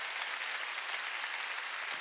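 A church congregation claps during a Korean worship service: dense, steady applause from a large crowd that fills the hall evenly from start to finish.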